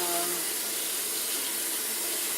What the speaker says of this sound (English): I'm going to wash them. Cool warm water.